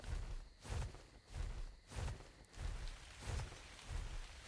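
Rain in the video game ARK: The Island, a soft hiss of falling rain with regular pulsing low rumbles, fairly faint and continuous throughout.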